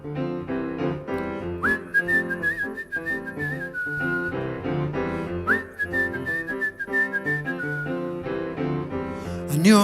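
A person whistles a clear melodic tune live during a jazz show, with long sustained notes over piano and instrumental backing.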